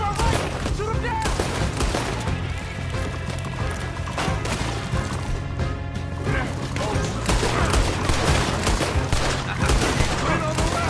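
Dense gunfire from Red Dead Redemption 2 crackles in rapid, overlapping bursts for the whole stretch, loud and continuous, with hoofbeats and shouting voices mixed in.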